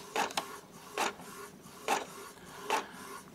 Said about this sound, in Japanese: こちらのプリンター、今、インクが非常に少ないので、色がちょっとおかしくなるかもしれないのですが